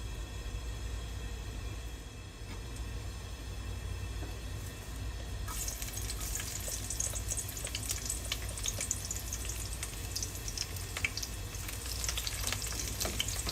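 Cooking oil heating in a pan, the low steady sizzle swelling partway through into a denser, louder crackle and spatter of frying, with no talk.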